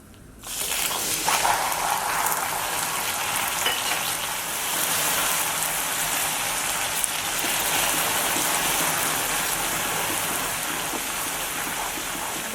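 Water poured into a hot halwa mixture in a pan on the stove sets off a loud, steady sizzling hiss. The hiss starts abruptly and continues evenly throughout, with no talking over it.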